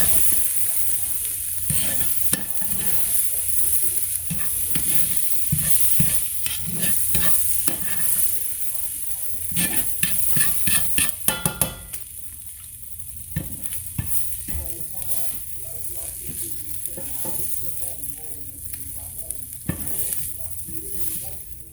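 Steak and vegetables sizzling in a pan while being stirred and pushed around, with frequent clattering utensil scrapes over a constant fry, loud and close.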